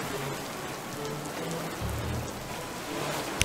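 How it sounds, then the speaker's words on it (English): Heavy, fat raindrops drum steadily on surfaces in a sailing video game at sea, a thick continuous patter with a sharp tap near the end and no talking. "These are some fat raindrops."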